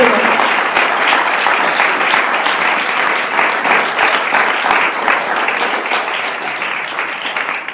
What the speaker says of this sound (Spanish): Fuerte el aplauso a mi Señor Jesucristo.